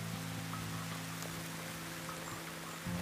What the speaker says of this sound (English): now it's started to pour down with rain and it's really coming down heavily